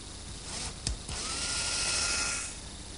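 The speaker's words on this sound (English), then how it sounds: "I'll drill a hole" A power drill whines briefly nearby, drilling a hole in wood, spinning up with a short burst, then running steadily for a couple of seconds before winding down.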